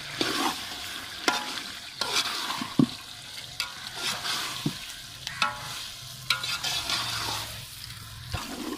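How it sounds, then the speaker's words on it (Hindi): Chicken pieces added to a pot of fried onion and spice masala for Pakistani village-style biryani, sizzling and frying steadily while a spoon stirs with periodic scraping clatters, close and without talk. "अभी हमारा प्याज और पूरा मसाला रेडी है। इसमें अभी गोश्त डाल देंगे, चिकन।"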